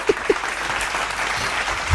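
A church congregation applauding during a sermon, sustained clapping from a crowd with a few sharper claps standing out near the start.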